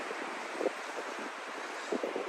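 Strong steady wind roars across the microphone on a mountain in the Canary Islands, a broad hiss with a couple of brief gusty bumps.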